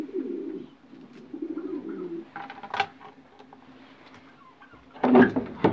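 Soft pigeon coos rise and fall at intervals over a quiet background, with a few clicks and a brief flutter or rustle near the end.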